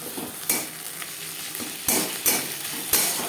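Onions fry in oil with ginger and green chili paste while being stirred, giving a constant sizzle punctuated by several sharp scraping strokes of a utensil across the pan.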